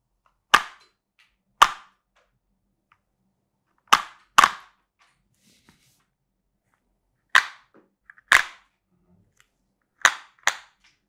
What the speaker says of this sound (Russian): Вот так классно стреляет наша МК с глушителем